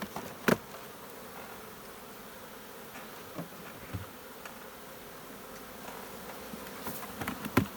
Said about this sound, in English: See how they're running right here?